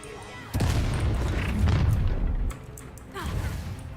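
The Incendio fire spell cast in the game Hogwarts Legacy, a sudden heavy whooshing boom that rumbles on for about two seconds, followed by a lighter second burst, with game voices nearby.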